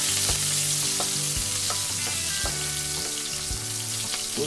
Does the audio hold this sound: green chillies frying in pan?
yes